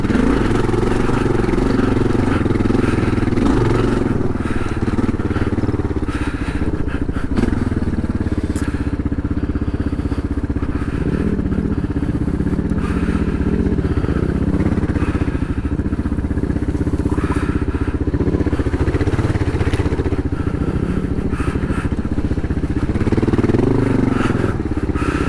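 Kawasaki KLR650 dual-sport motorcycle ridden steadily in second gear on an adventure ride, its single-cylinder engine droning loud and close with continuous rumble and mechanical clatter throughout, no talking.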